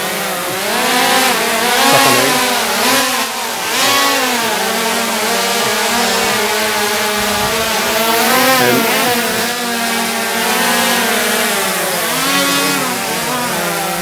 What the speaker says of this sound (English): Can you put the propellers on so we can hear the noise of the propellers?